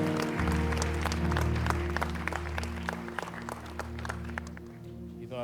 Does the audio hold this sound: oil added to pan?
no